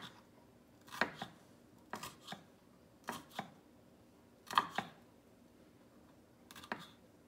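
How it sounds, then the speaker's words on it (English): Knife chopping strips of bell pepper into little cubes on a board, a few crisp cuts at a time in quick pairs, close and clear with pauses between. "I'm just gonna cut them into little cubes"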